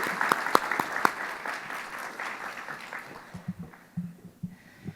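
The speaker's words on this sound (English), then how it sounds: "Let's give the Vivo Chamber Choir and Melanie Popejoy another round of applause." Audience clapping for a chamber choir at a scholarship awards ceremony, a moderate spread of hand claps that thins and fades out over a few seconds, with a few louder individual claps and some low voices near the end.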